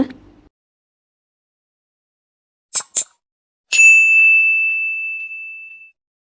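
A notification bell sound effect: two short clicks followed by a single clear, bright ding that rings out and fades slowly over about two seconds, isolated against silence.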